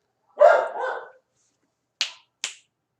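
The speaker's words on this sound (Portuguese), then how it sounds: "Meu cachorro começou a latir justamente agora, credo." A pet dog gives a single short bark indoors, followed after a pause by two sharp, snapping clicks in an otherwise quiet room.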